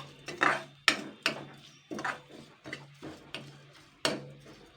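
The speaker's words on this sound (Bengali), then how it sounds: "এটাকে আমি এবার দুই মিনিট মতো নাড়াচাড়া করে নেবো" Grated coconut and sugar are stirred in a pan, a spoon knocking and scraping in a loose, irregular rhythm of sharp wooden taps, close and fairly quiet.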